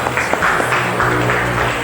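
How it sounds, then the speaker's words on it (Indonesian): School students applaud together in a classroom, a dense, steady patter of many hands clapping at close range for about two seconds. "Tepuk tangan sekali lagi."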